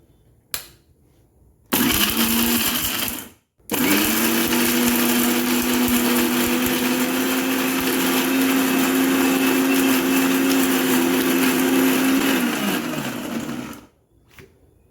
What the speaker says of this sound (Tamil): இப்போ அரைச்சிக்கலாம். இந்த மிக்ஸி ஆக்சுவலி வந்து புதுசு.